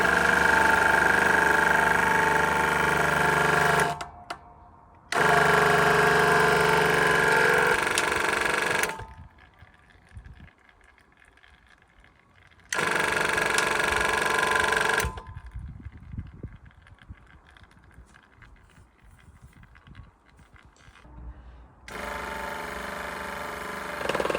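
An oil press squeezes apricot kernels for cold-pressed oil. A loud mechanical hum runs in several blocks, switching on and off, with quieter clanking and creaking between the runs.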